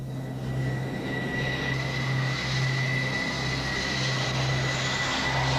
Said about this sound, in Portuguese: O versátil McDonnell Douglas FA-18 Hornet é hoje a mais importante aeronave de assalto da frota americana